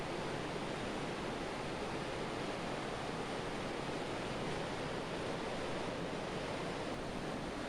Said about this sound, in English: You kind of get a sense of how much water is flowing there with the turbulence.